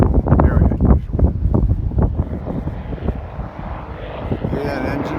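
Single-engine Beech Bonanza V-tail airplane's engine droning steadily, heard outdoors with wind and people talking over it throughout.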